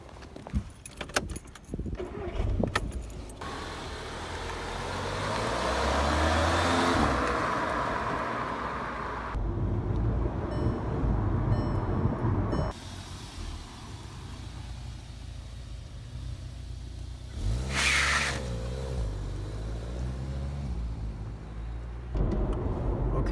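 A Volkswagen GTI MK7 with an automatic transmission on a test drive: keys jingle, the engine starts, and a steady mid-pitched drone rises and settles through changing road noise.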